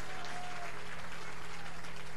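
Dense, continuous applause from a church congregation, steady and loud throughout with no speech over it.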